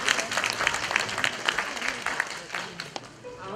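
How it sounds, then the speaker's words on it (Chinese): An audience at a kindergarten graduation ceremony claps in a dense wash of applause that gradually thins, with a voice talking over it. "掌声欢迎"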